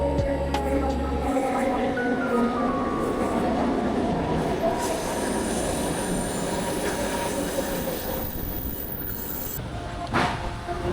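Onboard a Kuala Lumpur LRT train in motion, with a steady rumble of wheels on rail, long high-pitched wheel squeal rising and falling, and faint clicks, close and continuous throughout.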